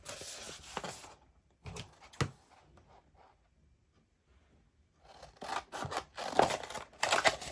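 Scissors cut designs out of paper for sublimation coasters, a run of close, crisp snips in two clusters with a near-silent pause between them and no talking.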